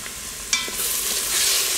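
Tomato paste, onions, garlic and olive oil saute in an Instant Pot, a soft steady sizzle that swells after a sharp clink of stirring partway through.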